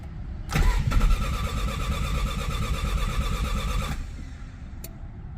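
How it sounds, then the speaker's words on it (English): An old car's engine cranks and catches on a cold day with the choke set after a couple of pedal pumps, then runs loud and close at a steady idle for several seconds before cutting off. "This thing will start every day, no matter how cold out it is."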